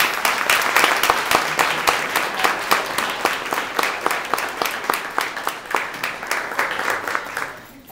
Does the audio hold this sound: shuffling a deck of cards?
no